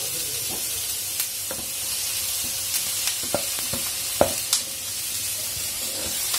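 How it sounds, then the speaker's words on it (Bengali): Chicken pieces fry over a high flame, a close, constant sizzle broken by distinct pops and the scrape of stirring, with no talking. "এটাকে আমি ফ্রাই করে নেব হাই ফ্লেমে তারপরে এর মধ্যে এবার দিয়ে দেবো চিকেনের পিসগুলো"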